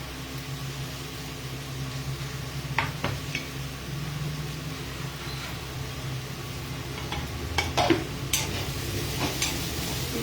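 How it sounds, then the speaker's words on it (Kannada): A ground paste of coconut, dried red chilli and garlic fries in a pan with a soft, steady sizzle, broken by a few clinks and scrapes of a spoon. "ಸ್ವಲ್ಪ ಹಸಿ ವಾಸನೆ ಹೋಗೋವರೆಗೂ ಫ್ರೈ ಮಾಡ್ಕೊಬೇಕು."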